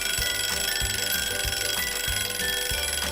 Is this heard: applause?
no